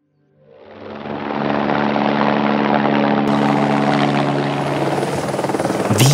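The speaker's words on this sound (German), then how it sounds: "Per Helikopter. Alle 2 Wochen ist Hubschraubertransporttag." A supply helicopter approaches an Alpine mountain hut, its rotor thump and turbine whine rising from silence to a loud, steady, close roar that holds throughout.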